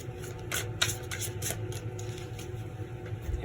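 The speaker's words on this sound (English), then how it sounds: "they're telling me one more shuffle" A deck of tarot cards is shuffled by hand close up, soft rapid riffling and papery flutters in a few quick bursts over a low steady room hum.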